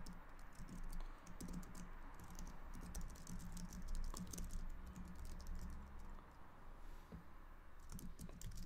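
Rapid typing on a computer keyboard while writing C# code, a dense run of light clicking keystrokes with a brief pause near the end, close but quiet and with no talking.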